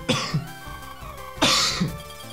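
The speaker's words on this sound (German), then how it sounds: "Dieser Husten tut mir wirklich, wirklich leid." Two harsh, close coughs from a German-speaking streamer playing Pokémon LeafGreen, spaced about a second apart, each a sharp burst with a short throaty tail, heard alone over quiet game music.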